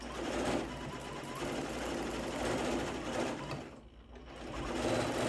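A Janome Continental M17 sewing machine with its Accu stitch regulator stitches steadily, giving a continuous close mechanical hum and rapid needle chatter that runs the whole time with only a brief dip.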